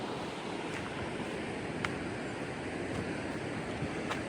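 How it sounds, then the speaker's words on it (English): Rushing Icelandic waterfall heard as a steady, broad roar of falling water with wind noise, continuous and fairly distant, with a few faint clicks over the wash. "There's waterfall number 1."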